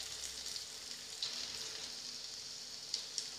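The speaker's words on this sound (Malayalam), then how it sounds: "നമ്മളൊരു സ്പൂൺ വെച്ചിട്ട് എല്ലാം എണ്ണയിൽ മുങ്ങുന്ന രീതിയിൽ ആക്കിയിട്ട്" Potatoes for french fries deep-fry in oil, giving a faint, steady bubbling hiss with a few soft ticks and pops, and no talking.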